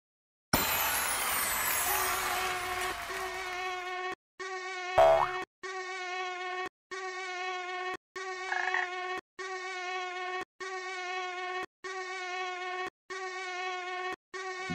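Cartoon flying insects buzzing as a frog snaps them up with its tongue: a steady, high, droning buzz repeated in regular bursts with brief gaps between, plus one short louder hit early on.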